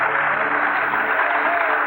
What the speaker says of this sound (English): An extremely loud applause here in Mission Control